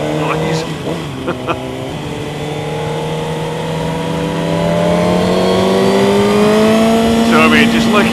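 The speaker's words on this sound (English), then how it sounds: "I wish you could hear these two bikes." Two motorcycle engines rev and accelerate together, their pitch climbing steadily as they pull away, loud and close throughout.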